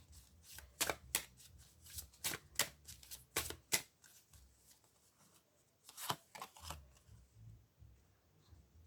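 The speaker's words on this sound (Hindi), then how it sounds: "कुछ कार्ड्स और निकालूंगी।" Tarot cards are drawn and shuffled close by, with quick bursts of crisp riffling and flicking, a pause, then another short flurry of card snaps, all soft and near.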